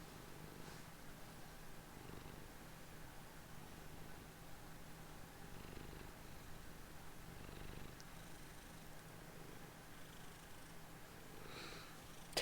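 A small cat purrs softly and steadily, the close, continuous rumbling rising and falling with each breath in a quiet room, with no talking.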